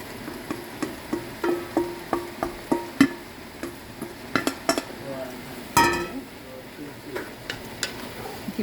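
Shredded meat being tossed and stirred together with vegetables in a pot, with a run of close, rhythmic clinks and scrapes of a utensil against the metal pot and a faint sizzle underneath.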